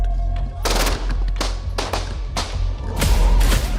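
Gunshots ring out during a live news shooting, a loud irregular series of sharp cracks, roughly six shots over a few seconds, over a noisy outdoor background.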